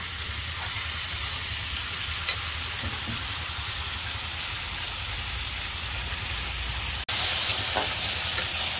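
Potatoes and radish fry in a pan with a dense, continuous sizzle like steady rain, held close and even throughout, with a few faint clicks and a slight jump in level near the end.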